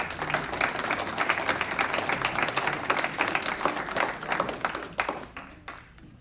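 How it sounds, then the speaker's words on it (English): Guests at a senior athlete banquet applaud the staff who served the meal, a crowd clapping steadily with crisp individual claps before the applause thins out and fades near the end. "how about a round of applause for the staff here?"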